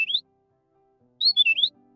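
Two bursts of bright, rising bird chirps, one brief call at the start and a quicker run of three or four notes about a second later, clear and alone with silence between them.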